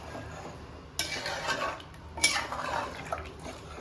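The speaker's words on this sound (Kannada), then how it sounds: "ಚೆನ್ನಾಗಿ ಮಿಕ್ಸ್ ಮಾಡಿ ಕುದಿಯಕ್ಕೆ ಬಿಟ್ಬಿಡೋಣ." A spoon scrapes and clinks against a pot of Kannada-style chicken curry with added water, giving two clear bursts of stirring, near and moderately loud, with no talking.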